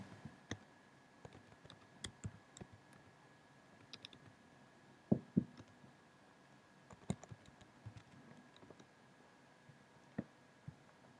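Soft clicks and taps from a computer keyboard come in scattered bursts, with occasional louder key strikes, quiet and close in a still room with no speech.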